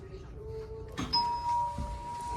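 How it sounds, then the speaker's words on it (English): A cabin doorbell on the Royal Caribbean cruise ship Odyssey of the Seas, in a junior suite, sounds a clear two-tone electronic chime once, ringing out over quiet room background and faint talk. "And it has a doorbell."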